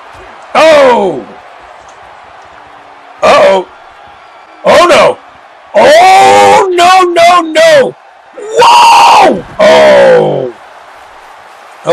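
Wrestling arena crowd roars and whoops in repeated loud bursts, with bellowing yells rising and falling between brief lulls during a match.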